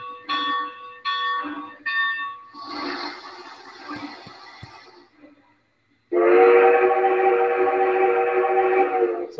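A PIKO G-scale garden railroad model train sounds its built-in whistle: two short toots, a breathy hiss of steam effect, then one long, loud sustained whistle blast, close and alone.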